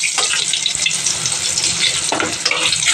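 Eggplant slices frying in a pan in a home kitchen, a steady close sizzle and hiss of oil, with occasional louder bursts of crackle and stirring.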